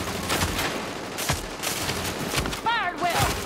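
Gunfire from squad combat in the video game The Division, scattered shots and bursts under shouted voices and game chatter.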